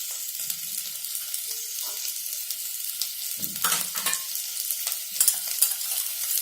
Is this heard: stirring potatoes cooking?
yes